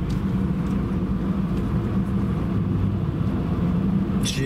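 A Honda Civic drives over Wolf Creek Pass, a steady broadband road and engine drone heard from inside the cabin, constant and fairly loud with a brief rustle at the end and no talk.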